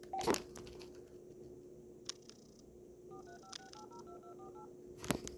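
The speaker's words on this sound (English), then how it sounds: "we're going to test it out by dialing it up" Number being dialed on an AT&T SL82218 speakerphone: a quick series of short DTMF keypad tones in an uneven rhythm, preceded and followed by louder clicks and handling knocks, against a steady low hum.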